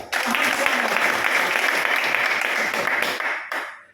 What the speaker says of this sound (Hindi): एक बार ताली बजाइए